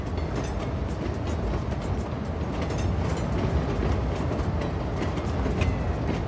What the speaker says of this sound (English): Coming out of ground into train station.